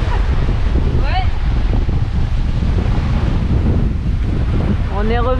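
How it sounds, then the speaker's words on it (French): Strong wind roars across the microphone aboard a sailboat under staysail in the channels between Martinique and Guadeloupe, loud and constant with surf and waves beneath, and brief voices breaking through. "on sait pas combien de vent il y a, mais il y a beaucoup"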